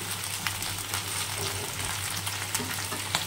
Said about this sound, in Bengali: ফ্রাই প্যানে তেল দিয়েছি, তেলের ভিতরে কুঁদরিটা দিয়ে দিয়েছি।